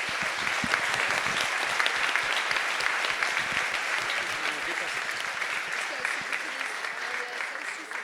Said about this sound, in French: je tiens qu'on peut les applaudir très fort pour cette belle journée